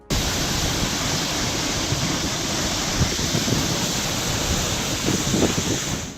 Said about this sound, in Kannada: ಬಣಗುಡುತ್ತಿದ್ದ ಬಸವಸಾಗರಕ್ಕೆ ಹರಿದು ಬಂದ ನೀರು.